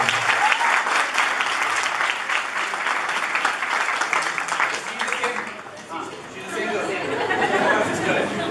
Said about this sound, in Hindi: पहले आयुषी के लिए तालियां हो जाए